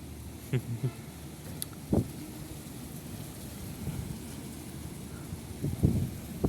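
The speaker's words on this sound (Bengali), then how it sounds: "সাথে বাতাসের আওয়াজ।" Strong storm wind roars steadily in a broad rush, with rain and a few low gusting thumps and buffets rising over the constant noise; no one speaks.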